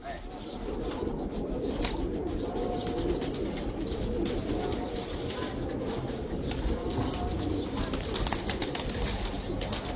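Soft cooing from pigeons mixed into a dense chorus of chirping birds, steady throughout and moderately distant.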